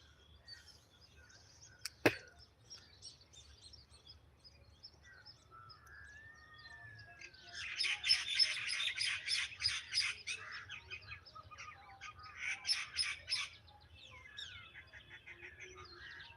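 Birds chirp and call over a farm field in the morning, with bursts of rapid bright twittering from nearby birds, a rising whistle, and a sharp click early on, set against a quiet rural background.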